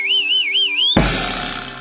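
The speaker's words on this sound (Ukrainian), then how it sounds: "І тут раптом пролунав пронизливий свист, від якого і Зландій, і Посіпака попадали на підлогу." A loud, piercing warbling whistle shrills for about a second, then cuts off abruptly into a burst of crashing noise that fades out.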